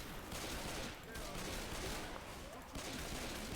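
Rapid bursts of automatic gunfire from a Left 4 Dead 2 game session fill the whole stretch at a steady, loud level, with brief dips between volleys and faint voices in the background.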